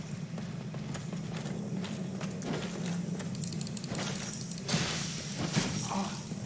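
Horse hooves clip-clopping in Dark Souls Remastered, a steady run of hoofbeats under continuous game ambience and a low hum, with a few sharper knocks late on.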